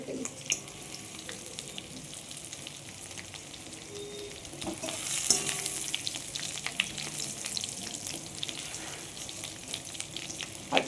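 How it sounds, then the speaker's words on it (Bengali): Food fries in oil in a wok, a continuous crackling sizzle with scattered stirring clatters and a louder burst near the middle, heard close and without speech. "তো এইটা এখন মোটামুটি ভাজা হয়ে এসেছে, আর একটু ভেজে নেব।"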